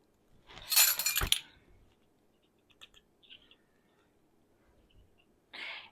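Sweet peppers going into glass canning jars, with a loud burst of glassy clinking and rattling at the start, then a few scattered light clinks and a short rattle near the end, alone and close.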